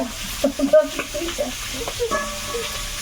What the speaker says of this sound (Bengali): মাছগুলো লাল লাল করে ভাজা হয়ে গেছে খুব সুন্দর ভাজা হয়েছে